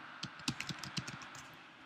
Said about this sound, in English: you could just press C and then hit return